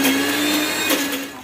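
A kitchen mixie grinds garlic, coriander leaves, tamarind and salt with a loud, steady high-pitched whir that holds without pause throughout.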